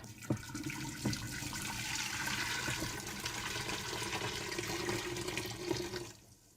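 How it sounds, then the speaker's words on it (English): Hot water rushes steadily for several seconds into a Nesco Smart Canner, a loud continuous pour or gush that cuts off abruptly near the end. "you put in 8 cups of hot water"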